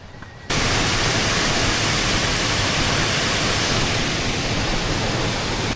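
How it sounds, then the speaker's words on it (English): A waterfall at its source in the Scottish Highlands roars as a loud, steady, dense rush of water that cuts in abruptly after a brief quieter moment and continues unbroken. "I found the source of the waterfall"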